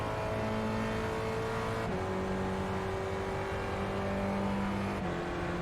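A Spec Racer Ford race car in a sim racing game revs steadily, its engine pitch dropping at two crisp gear shifts before climbing again, alone with no talk.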